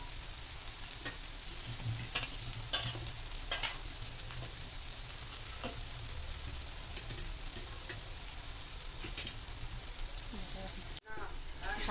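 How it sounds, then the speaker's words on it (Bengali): Potatoes frying in oil in a pan, a steady close sizzle with scattered crackles and pops throughout, briefly dipping near the end. "আলুটা আমার ভাজা হয়ে গেছে"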